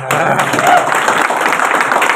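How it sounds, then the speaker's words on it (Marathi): Audience at a Marathi political gathering honouring Ram Satpute bursts into loud, dense clapping, a steady wash of applause sustained throughout without a clear break. "उपस्थितांनी टाळ्यांचा कडकडाट करून त्यांना दाद दिली"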